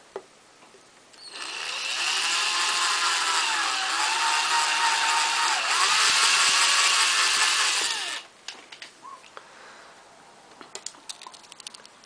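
A steady, loud whirring power drill bores out a model wheel to 2.5 mm for a hex shaft, running about seven seconds with a slight pitch dip midway, then stops, followed by a few light clicks and taps.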